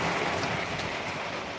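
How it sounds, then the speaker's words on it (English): Dense, steady rain patters on a roof above a shelter during a cliffside walk, a constant close hiss of drops with no pauses. "That is certainly rain."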